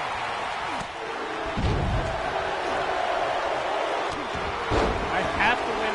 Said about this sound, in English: This crowd is still chanting Sami Zayn's theme song.